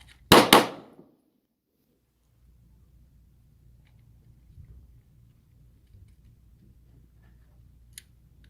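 A handgun fires a controlled pair at close contact on a training range: two sharp, loud shots in quick succession, then a long stretch of faint ambient rumble with a brief click near the end.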